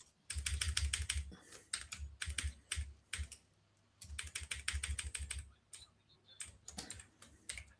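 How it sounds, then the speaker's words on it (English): Fast typing on a clicky computer keyboard comes through as loud, close bursts of sharp key clacks with short pauses in between, and no one speaks. "Sorry about the clicky clack of my keyboard."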